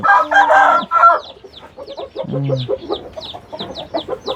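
Several chickens cluck loudly and close by, with a rooster crowing partway through amid continuous overlapping clucks.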